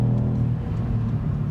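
2018 Kia Stinger GT2 with a 3.3 liter twin-turbo V6, a brief, fairly loud low rumble of the engine pulling hard under acceleration, heard from inside the car with no talking.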